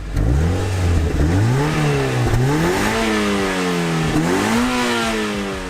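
A 2010 Mazda Miata engine starts and rumbles loudly nearby, revving up and down in repeated rising sweeps with a raspy exhaust note.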